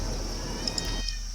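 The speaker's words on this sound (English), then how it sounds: "And you can hear my cat Cornflake screaming in the background." A pet cat meows and yowls in the background, faint and drawn out, under a steady electronic hum.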